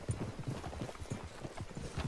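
Horse hooves in Red Dead Redemption 2 clip-clop in an even, regular walking rhythm, moderately close and fairly quiet, with no talking over them.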